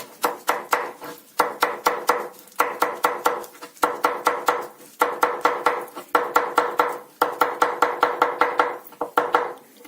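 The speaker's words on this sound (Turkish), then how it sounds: "İyice küçük küçük doğradık" A knife chops parsley rapidly on a board in repeated bursts of quick, crisp strikes separated by short pauses, close and fairly loud, with no talking.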